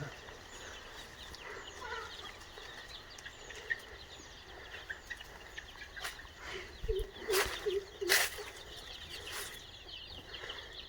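Native country chickens and small chicks in a rural poultry shed cluck and call faintly in scattered bursts against a quiet outdoor background, livelier toward the end.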